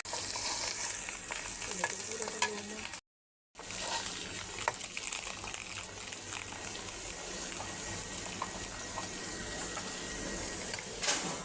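Ginger and garlic paste frying in a pan for a dried-fish, eggplant, potato and radish curry gives a loud, steady, hissing sizzle with one brief dropout.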